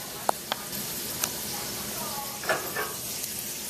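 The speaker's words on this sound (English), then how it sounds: "you're adding hot oil to a liquid" Hot oil with burnt garlic poured into a pot of split pea dhal sizzles in a steady hiss, with a few sharper crackles and pops over the top, fairly close and moderately loud.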